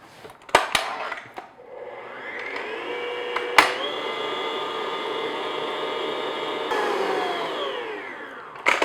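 An electric mixer whirs steadily as it beats vanilla extract into meringue, starting after a few clicks and knocks, holding a loud motor tone, then shifting pitch slightly near the end before stopping.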